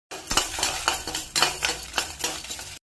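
Lentils, fenugreek and dried red chillies stirred in hot oil in a pan for a Tamil aval upma, with rhythmic scraping and clinking of a spoon against the pan over a soft sizzle, close and repeated.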